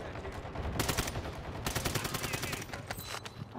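Continuous automatic gunfire in Warzone 2, rapid dense volleys rattling loud and close with short gaps between bursts, a distant voice faintly underneath.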